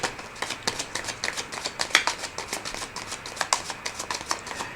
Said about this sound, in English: So let me do another shuffle.